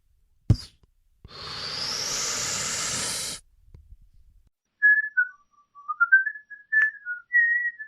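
A person whistles a wavering, bouncy tune in short phrases after a brief pop and a few seconds of loud rushing hiss.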